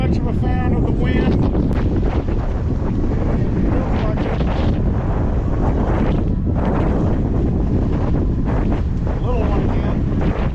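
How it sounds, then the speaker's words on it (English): Strong wind buffets the microphone on a lake during a walleye fishing rodeo at Canton Lake, a loud continuous roar with gusts throughout, with a faint voice near the start. "I'm not much of a fan of the wind."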